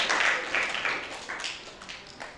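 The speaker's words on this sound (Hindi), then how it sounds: "खूब जोर से तालियां इनके लिए।" A crowd of students at a school in Hyderabad applauds loudly, with bursts of dense clapping that swell and fade several times, no voices on top.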